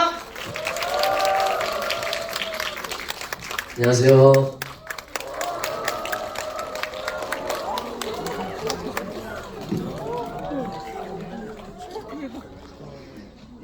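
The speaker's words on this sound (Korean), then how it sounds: "지금 설계자의 이호석 감독님과 배우분들 바로 모셔보도록 하겠습니다. 박수로 맞이해주세요" A cinema audience at a Korean film stage greeting at CGV Wangsimni applauds the director and cast of the film, a burst of clapping and cheers rising around an announcer's voice, with chatter and a greeting spoken over the crowd noise.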